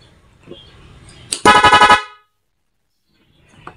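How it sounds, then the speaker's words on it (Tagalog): A loud car horn, an aftermarket dual horn on its rapid-horn mode, blasts in a rapid burst of short repeated toots, about half a second long, then stops abruptly into silence. "mode 2 tayo, rapid horn yan"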